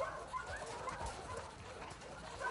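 A dog in the video game The Last of Us Part II whimpering and yipping softly, a quiet run of short excited whines and small barks under faint game ambience.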